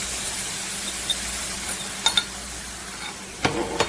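Sweet and sour sauce poured onto caramelized pineapple in a hot pan for sweet and sour pork, a bright steady sizzle with a few sharp utensil clinks and scrapes toward the end.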